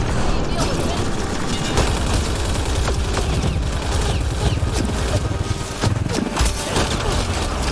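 Dense, continuous gunfire and blasts in Mass Effect Andromeda keep up a loud, busy combat din with rapid shots, while voices talk over the action.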